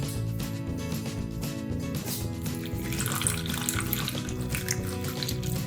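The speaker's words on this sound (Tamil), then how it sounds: "மிக்ஸ் பண்ணதுக்கப்புறமா நம்ம தண்ணி சேர்த்து மிக்ஸ் பண்ணலாம்." Water pours steadily into flour for veg burger batter, a continuous splashing trickle close by with no voices.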